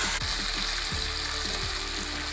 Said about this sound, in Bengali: আলুগুলো ভালোভাবে মশলার সঙ্গে কষে নেব